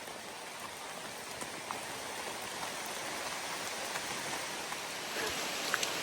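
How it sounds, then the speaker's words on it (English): Heavy torrential rain pouring down outdoors at Cummins Falls State Park near Cookeville, Tennessee; a dense, steady hiss of drops on surfaces with faint scattered patters, continuous and moderately distant, no voices. "nothing like this torrential downpour"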